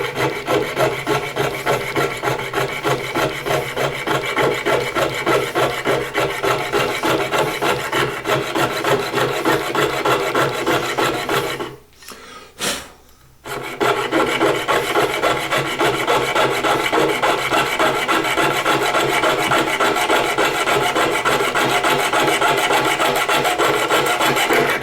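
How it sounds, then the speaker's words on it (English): Jeweler's saw rasping back and forth through the metal front end of a diecast model car, a loud, steady rapid sawing rhythm close up, broken by one brief pause midway. "I decided to remove the front end, which my jeweler saw."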